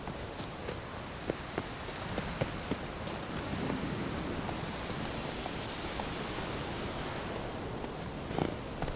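Hooves of Roach, Geralt's horse in The Witcher 3: Wild Hunt, clip-clop at a steady walking rhythm over a dense, constant wash of rain and ambient noise, with the hoofbeats faint and intermittent.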